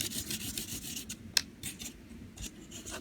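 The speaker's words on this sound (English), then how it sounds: "I'll just scrape off the excess from here" Excess glitter paint being scraped off a surface, heard as faint, close rasping strokes in an irregular rhythm with a few sharper scratches and no talking.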